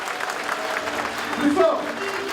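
A live audience at a Georges Ferrero show applauds loudly to welcome him, a dense, steady wash of clapping with some crowd voices and faint tonal sounds mixed in.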